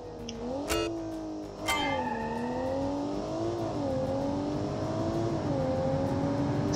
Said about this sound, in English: This thing accelerates like a true hatchback.